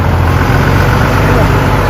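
A Volvo 940 truck engine labours as it begins a climb, a loud, steady low-pitched rumble that holds constant and close throughout.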